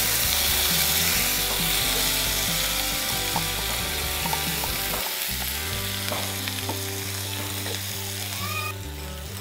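Tomato pieces and mint sizzle and fry steadily in a pan for a chutney, a dense continuous crackle with occasional stirring scrapes, close and fairly loud throughout, no voices.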